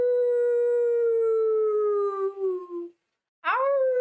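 A human voice imitates wolves howling at the moon with a long, sustained, slowly falling howl, then after a brief silence starts a second rising howl, loud and close.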